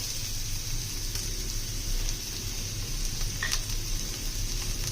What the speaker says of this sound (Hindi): इसके अंदर मैंने डाला 1 चम्मच ऑयल, और इसको हल्का सा हमने गर्म कर लेना। अब इसके अंदर हम डालेंगे प्याज।